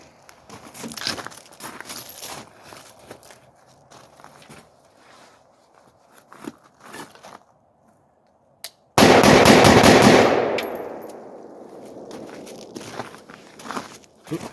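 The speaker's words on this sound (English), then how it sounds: "I'm going to shoot it without any light" A single loud AR-15 rifle shot fired in darkness on an outdoor range cracks out sharply and rings into a decaying echo, preceded by quiet rustling and footstep-like shuffling.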